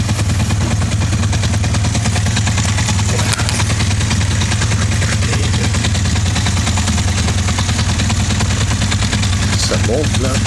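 A 1980 Honda 400 cruiser motorcycle engine runs steadily while riding, a loud, continuous low rumble with wind noise filling the whole stretch.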